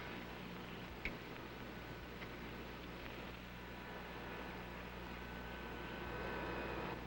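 The number 3 engine of a 1953 airliner starting up gives a steady, muffled, broadband drone with a faint click early on, swelling slightly toward the end, with no voices.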